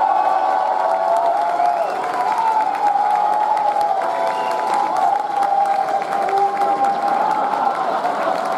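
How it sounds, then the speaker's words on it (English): Sustained applause from a comedy-show audience at Anime Expo 2014, a dense, steady wash of clapping and crowd noise with faint cheers that holds evenly for the whole stretch. "Now, give it up. A round of applause for Soap."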